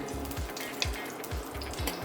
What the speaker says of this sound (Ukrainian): Смажимо прямо на цьому, де жарився наш бікон.